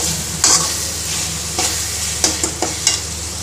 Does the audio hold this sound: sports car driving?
no